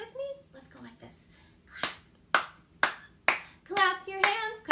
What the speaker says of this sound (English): Let's see if we can clap together.